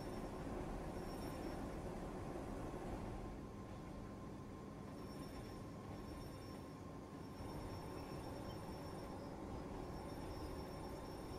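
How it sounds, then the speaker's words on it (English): A suburban train in Japanese Rail Sim 3D runs steadily through Kyoto, a continuous mid-level rumble of wheels and motor with faint high whine, unbroken and without talk. "While this is a suburban train that people actually ride to go places"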